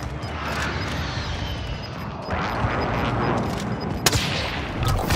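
Gunfire in the video game Call of Duty: Modern Warfare, a rolling, fairly loud volley of shots and rumbling blasts with a sharp crack near the end, and no talk.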